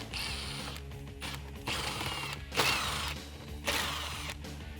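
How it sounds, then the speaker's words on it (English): A socket ratchet clicks in several bursts while 7mm bolts come out of a 2015-2017 Ford Mustang during a chin spoiler install. The close, rapid mechanical ratcheting is separated by short pauses, with no talking. "Grab your 7 socket, whether it be on an impact gun or a ratchet"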